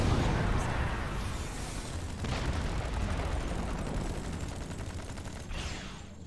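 Launcher weapon firing in a video game, a dense sustained barrage of heavy booming blasts and rumbling explosions, loud and continuous with a few sharper bursts standing out.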